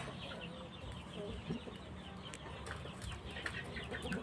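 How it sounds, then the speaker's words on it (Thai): Faint, steady clucking from a group of small young chicks with occasional sharper chirps, heard from a little distance with no one talking. "ไก่เล็กนะครับ เล็กมากนะครับ"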